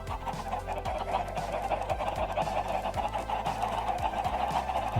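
Several Minecraft chickens cluck in the video game, with soft repeated clucks over a steady bed of game noise and faint rhythmic low thumps, continuing evenly for about five seconds without speech.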